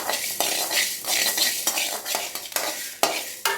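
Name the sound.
dry roasting spices in a pan without oil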